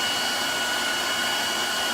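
Blow dryer set to high force and full heat, straightening a beard; a steady, loud broadband whoosh with a faint whine runs unbroken and close throughout, with no talking.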